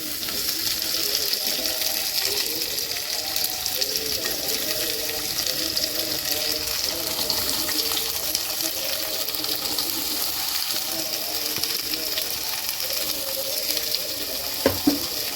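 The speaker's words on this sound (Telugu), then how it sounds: "ఆనియన్స్ అన్నీ వేగుతుండగా" Chopped onions frying in a pan for a hotel-style puri curry, giving a steady, close hiss and crackle that continues without pause and without any talk.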